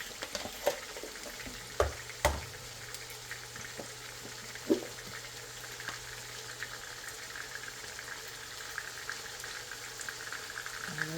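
Rice for chicken biryani bubbles at a steady boil in a pot, a soft continuous seething with occasional louder knocks and clinks near the start, no voices.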